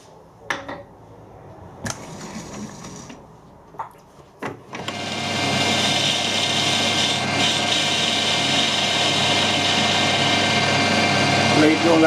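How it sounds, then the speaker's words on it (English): A metal lathe facing and drilling the end of a steel tailstock die holder, a few knocks and brief pauses first, then a steady loud machining whir with a high metallic ring that runs to the end. "What I need to do is face the end, drill it and tap it."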